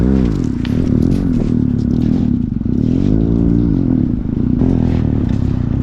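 A trail motorcycle engine given throttle on rough terrain in Iceland, loud close revs rising and falling with sweeping pitch changes, mixed with clatter and scraping from the ride.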